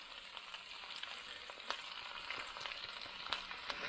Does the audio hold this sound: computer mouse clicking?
no